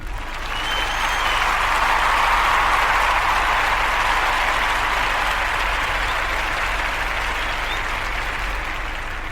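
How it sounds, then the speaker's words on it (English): A live audience gives a sustained round of applause, steady and full throughout, with dense clapping filling the room from start to finish. "So that was that round of applause."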